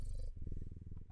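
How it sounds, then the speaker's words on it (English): A cat purrs close to the microphone, a deep rhythmic rumbling pulse of steady repeated beats, loud and alone after a brief hissy moment at the start. "she is purring a lot and these mics pick up everything"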